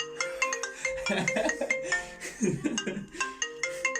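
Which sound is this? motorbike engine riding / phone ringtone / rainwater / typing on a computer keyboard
phone ringtone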